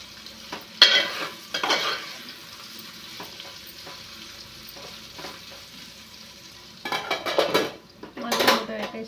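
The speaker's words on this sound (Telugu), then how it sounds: "ఇప్పుడు కొంచెం ఇలా మళ్ళీ ఒకసారి అయితే కలుపుకోవాలి" A spoon scrapes and clanks against a pan while food is stirred and fries, with two bursts of metallic stirring at the start and two more near the end. A soft sizzle runs in between, and no one speaks.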